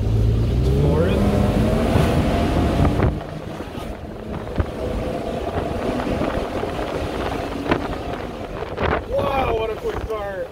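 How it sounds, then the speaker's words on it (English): A Mercedes-Benz car engine accelerates through the gears with a downshift while driving out of a village, its rising tonal drone loud over steady wind buffeting on the microphone. "You're gonna hear more of engine noises than me"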